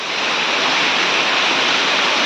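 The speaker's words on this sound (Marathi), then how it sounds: "मित्रांनो पाऊस बघा किती खतरनाक चालू झाला आहे" Heavy monsoon rain pours down in a dense, continuous hiss, loud and steady throughout with no pauses.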